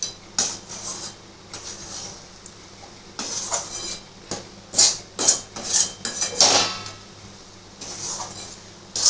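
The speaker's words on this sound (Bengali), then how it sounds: "এবার এটাকে অনবরত আমাকে নাড়তে হবে" Spoon scraping and clinking against a pan while coconut barfi mixture with rice flour is stirred, irregular metallic scrapes and taps, close and clear, with quiet pauses between bursts.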